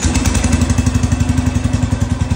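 A cold Cub Cadet 105 snowthrower engine runs in a garage, a loud, close, steady rapid chugging idle with a rhythmic mechanical clatter throughout the short stretch.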